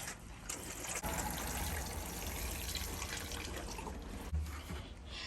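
Water trickles and splashes steadily as potted porch flowers are watered, a close, continuous pouring sound running for several seconds with a brief louder splash near the end.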